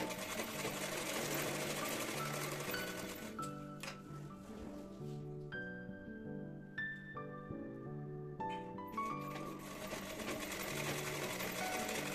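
Sewing machine stitching 3.5-inch tucks on a blouse, a steady, loud motor-driven needle whir running nearly the whole time with a brief pause and slower stitching in the middle.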